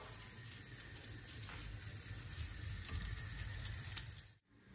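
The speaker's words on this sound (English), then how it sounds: "we keep cooking the guanciale" Guanciale sizzles steadily in a pan while being cooked for carbonara, a soft, continuous crackling hiss that stays even and fairly faint before cutting off abruptly at the end.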